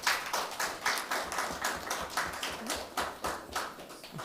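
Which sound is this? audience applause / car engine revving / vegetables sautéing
audience applause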